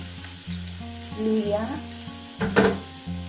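Ginger, onion and garlic sautéing in a pan for ginisang monggo, a moderate sizzle with a stirring clatter, over a steady rhythmic humming drone from nearby.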